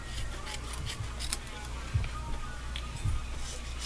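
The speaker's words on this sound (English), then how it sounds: "So just trim off the bits that don't seem to fit." Scissors snip through scrapbooking paper for a paper bag penpal album, a few soft close cuts spaced about a second apart over a low steady background.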